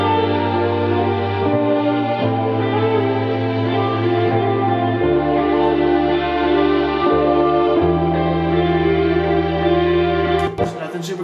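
Basic synth bass in a soulful R&B sample, stepping between sustained root notes every couple of seconds beneath a reverberant chordal backing, loud and steady with no talking.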